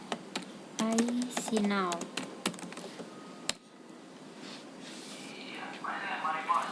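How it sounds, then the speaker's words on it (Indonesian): Fingers tap on a computer keyboard during a text-editing lesson, giving quick clicking keystrokes close by. A voice speaks briefly over the typing, and it carries on more softly afterward. "Kita coba ketik."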